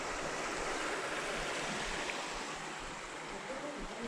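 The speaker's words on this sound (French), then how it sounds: "la rivière passe en dessous de l'hôtel" River flowing beneath an abandoned hotel, a steady, moderately loud rush of running water, with no speech heard over it.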